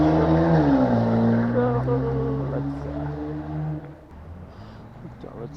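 A Power Heel motorized device runs at half throttle with a steady tonal whine and hum that drifts slightly in pitch, then eases and fades toward the end, heard close.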